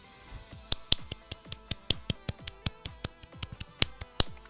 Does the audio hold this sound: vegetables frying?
no